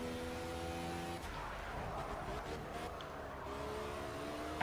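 A Lotus 98T Formula One car in a racing video game slides at the Nürburgring, its engine roaring steadily and tires squealing through a sustained skid, loud and close throughout.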